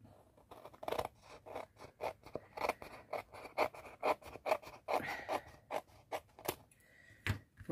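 Scissors snip through paper for a vintage-style Stamperia scrapbook album, in a quick series of short, crisp cuts that are close and fairly quiet, with no talking.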